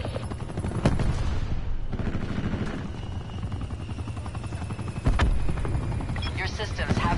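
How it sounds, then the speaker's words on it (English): An attack helicopter in a first-person shooter game thumps with a steady rotor chop, mixed with game effects, sharp bursts and gunfire, while players talk over it. "Attack chopper."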